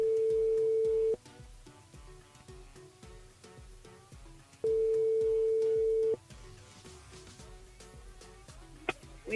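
Telephone ringback tone while a radio show dials a listener: two long steady beeps with a pause between, heard over a busy music bed.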